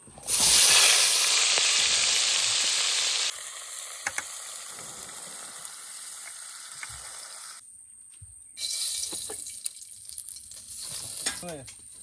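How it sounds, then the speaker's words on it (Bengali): A fish head fries in hot oil at a riverside picnic, a loud crackling sizzle bursting in at the start, then settling to a steadier hiss with occasional pops and scrapes, flaring loud again near the end. "ফার্স্ট বন্ধুরা আমরা সেই মাছের মাথাটা ভেজে নিই"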